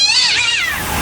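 A cat lets out a single loud, close meow that rises and bends in pitch, sounding harsh and drawn out, with a brief wet tail at the end.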